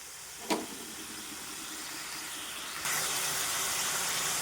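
Bottle gourd, boiled first, stir-fried in a pan for a koi fish curry: a steady sizzling hiss, with a brief sharp burst near the start and a louder, brighter frying hiss in the last stretch.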